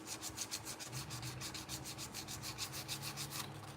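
Sandpaper rubs steadily over a Schrade pocket knife during a cleanup, a close, continuous rhythmic scratching with regular back-and-forth strokes, fairly quiet and alone.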